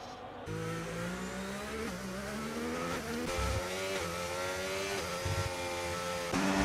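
Simulated F2 race car at the Hungary circuit, its engine howling through rising and falling gear changes as the car is thrown into seventh and runs wide, loud and close throughout with brief low thumps.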